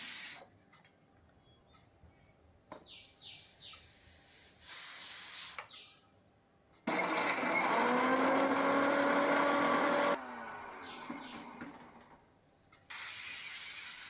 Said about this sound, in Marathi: मिक्सरमधून ती पावडर व्यवस्थित बारीक करून घेतली.